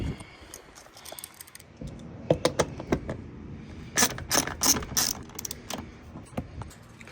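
Ratchet clicks and clinks as 10mm bolts are worked loose from a plastic skid plate under a 2015 Hyundai Elantra, with bursts of quick ratcheting in the middle and later sections over a low background hum.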